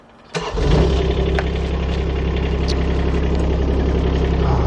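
A Kubota U17 diesel excavator engine cranks and catches with a sharp start, then settles into a loud, steady, rumbling idle.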